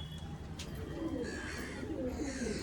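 Pigeons coo softly in a small flock gathered around a water dish, low repeated throaty calls murmuring steadily through a brief stretch of outdoor ambience.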